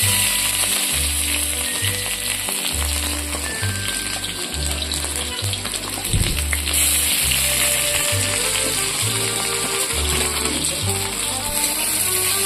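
Pieces of pork fry in a small amount of hot oil with onion and chilli, a continuous loud sizzle with rhythmic low scraping thumps of stirring throughout, no talk.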